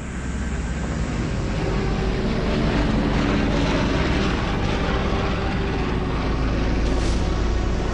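World War II Japanese bombers and torpedo planes in flight, a loud continuous propeller-engine drone that holds steady throughout with no voices over it.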